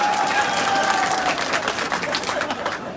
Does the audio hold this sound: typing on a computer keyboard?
no